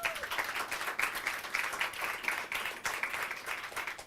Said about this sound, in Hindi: ताली मारो उसको।